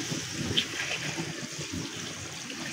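Water poured into a pot of beef paya, a steady splashing and trickling wash of liquid filling the pot for the whole stretch, close and fairly loud with no talk.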